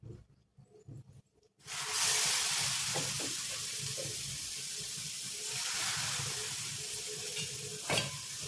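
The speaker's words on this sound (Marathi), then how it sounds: "आता आपण तव्यावरती तूप टाकायचे आहे" Ghee hits a hot tava for frying bitter gourd, bursting into a loud, steady sizzle after a short quiet start and hissing on without a break.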